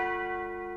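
A single church bell tolling at Wandsworth Prison before a hanging, one sustained ringing stroke with rich overtones that slowly decays, clear and alone.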